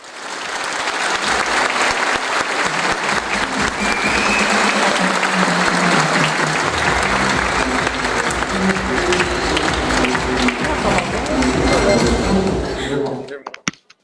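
Warm, loud applause fills a room as a company's legal director is welcomed to a debate stage, dense clapping from a crowd running without pause under voices and a few thumps before stopping abruptly.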